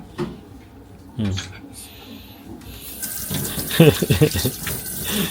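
Washed items are rinsed under a running tap in a home sink in Japan; water gushes in partway through, with people talking and some clattering.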